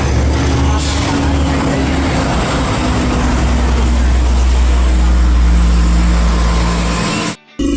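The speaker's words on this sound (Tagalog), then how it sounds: "Maingay, daming truck eh." Heavy road traffic from many passing trucks on a hot day in San Jose, a loud continuous engine rumble and roar with a brief dropout near the end.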